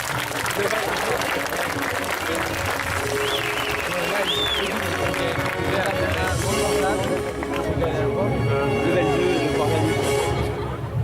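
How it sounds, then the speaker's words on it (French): At a cosplay contest on a festival stage, an audience applauds a young cosplayer with steady, dense clapping that carries throughout, while a voice speaks over it and cheers rise in the crowd. "on peut quand même, encore une fois, l'applaudir bien fort"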